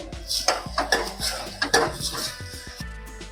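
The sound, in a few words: stirring spices with a spoon in a pot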